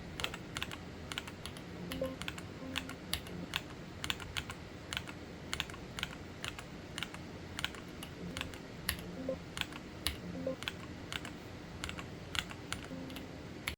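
Typing on an Epomaker EK68 mechanical keyboard with Cherry-profile keycaps: a steady stream of crisp, distinct keystroke clicks at a moderate pace, close and alone, with the occasional heavier thock.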